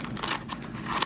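Scissors snip through material while cutting out a small piece between two close lines in an art studio, giving a run of close, crisp crunching cuts over about a second.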